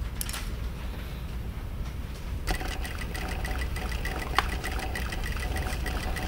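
Sewing machine stitching along the folded edge of fabric, a soft steady mechanical whir with a faint rapid creaking pulse, fairly quiet and alone.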